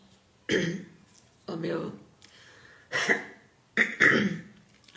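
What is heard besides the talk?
throat clearing and coughing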